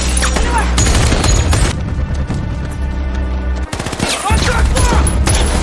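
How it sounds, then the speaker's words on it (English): Dense gunfire from a film shootout against terrorists, loud bursts of rapid shots layered with booms and constant clatter, briefly dropping out near the end before the barrage resumes. "After defeating them, the 2 continued shooting at the terrorists."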